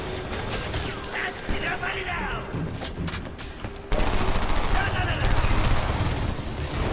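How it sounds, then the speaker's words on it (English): Gunfire in the video game Homefront, a dense stretch of rapid automatic shooting that grows louder and fuller partway through, with mechanical clatter and battle noise running throughout. "Pressing fire."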